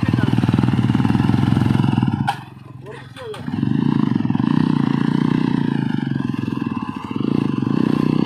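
A motorcycle engine revs and runs loudly through a forest trail ride, a steady roar that drops briefly, then surges back strong, with clatter and voices over it.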